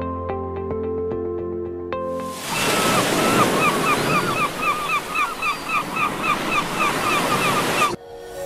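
Sea surf washing ashore on the Black Sea coast at Odesa on a cold, very windy day, a steady broad roar of breaking waves with gusting wind buffeting the microphone, starting abruptly after a brief tonal passage and cutting off at the end.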